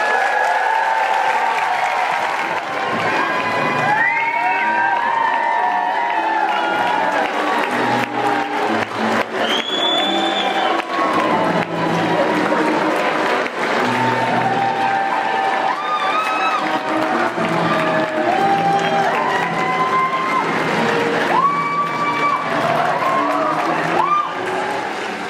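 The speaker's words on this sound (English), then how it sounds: "Let's give another round of applause for our graduates." Audience applause and cheering for the graduates of 2022 at an evening graduation ceremony, a steady, dense wash of clapping with voices calling out throughout.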